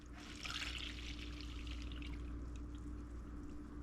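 Orange juice pours into a pan for a sweet-and-sour orange chicken sauce, a soft, steady liquid trickle that is quiet and close, swelling briefly near the start.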